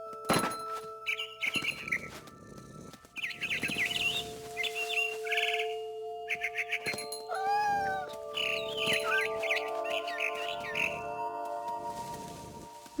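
A barn swallow in the video game What Remains of Edith Finch chirps and twitters in repeated bursts, mixed with occasional soft thunks and a sustained ambient drone from the game. The chirping is close and no one speaks.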